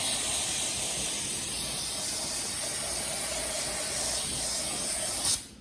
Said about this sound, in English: Let me give it some brake cleaner.